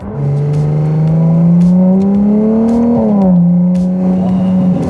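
A V6 Ferrari sports car engine holds a smooth, rising rev close by, peaks, then drops back to a steady drone with a raspy, buzzing tone.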